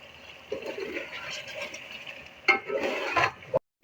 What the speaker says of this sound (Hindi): अभी हम इसको भूनेंगे।